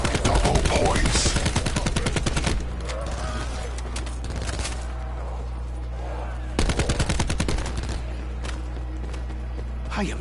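Gunfire in Call of Duty Black Ops 4 zombies mode: loud rapid bursts of automatic shots during the first couple of seconds and again near the end, with a quieter stretch of game noise in between.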